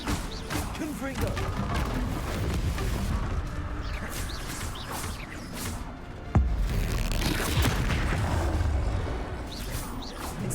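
Confringo blasting spell exploding during a Hogwarts Legacy video game duel: a sharp, loud burst lands partway through, set within a dense, continuous wash of crashing, whooshing combat effects that fills the whole stretch.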